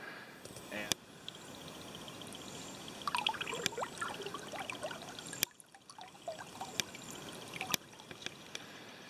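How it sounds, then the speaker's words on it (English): Cedar Creek flows through pine lowlands in Lower Forge, New Jersey, a steady soft trickle and babble of stream water with occasional sharp clicks and knocks nearby. "there's this Cedar Creek behind me"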